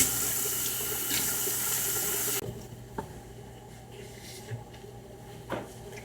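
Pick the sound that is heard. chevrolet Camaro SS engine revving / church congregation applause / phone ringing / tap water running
tap water running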